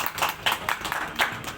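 An audience at a software house anniversary event claps in a short, uneven burst, the claps moderately close and fairly sparse.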